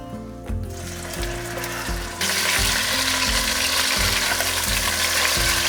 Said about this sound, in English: Now we add in our lamb chops